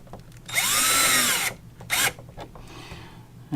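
Power drill driving screws into thin wood while mounting an RV propane detector: a long whining run of the motor, a short second burst, then quieter handling, close and loud with no talking.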